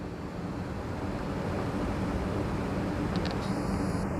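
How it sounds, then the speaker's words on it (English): Strong winter storm wind roars in a constant broadband rush, buffeting steadily without pause; a faint high tone briefly appears near the end. "Pretty windy out there"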